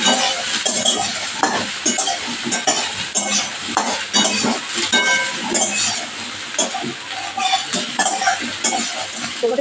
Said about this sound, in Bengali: এর মধ্যে আমি সোয়াবিনগুলো দিয়ে ভেজে নেব